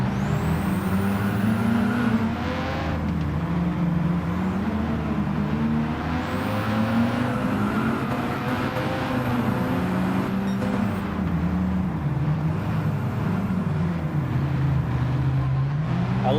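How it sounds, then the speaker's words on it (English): A red car with a modified exhaust in a racing video game drones with a loud, steady engine note that rises and falls in pitch as it revs, with a hissing higher layer throughout. "This car's got a modified exhaust."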